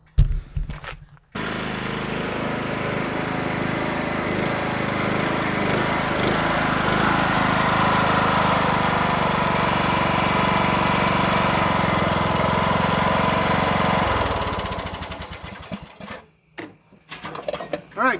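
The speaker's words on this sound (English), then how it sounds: "let's warm this thing up, give it a few laps and see what happens" A Troy-Bilt Pony 15.5 HP riding lawn mower runs steadily with a fresh carburetor, its engine droning loud and close for most of the stretch before cutting out near the end.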